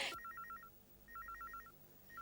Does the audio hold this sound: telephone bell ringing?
yes